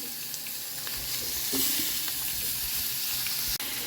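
Chana dal and tomato frying in a pan for a chutney, making a continuous close crackling sizzle at an even level, with a few faint clicks of a utensil and a sharp knock near the end, no speech.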